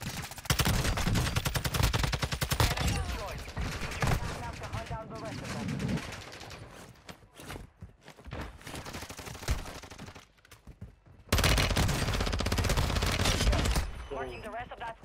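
Rapid gunfire from a VEL-46 in Warzone 2.0, dense bursts of shots in close-range combat, with a quieter stretch in the middle before another loud burst, and people talking over it.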